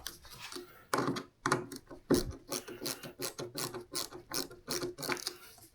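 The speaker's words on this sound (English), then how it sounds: "then you can tighten up your screws" Screws are turned and tightened with rasping, ratcheting scrapes while fitting a YakAttack Leverloc anchor trolley to an Old Town Malibu PDL kayak, in repeated close strokes with short pauses between them.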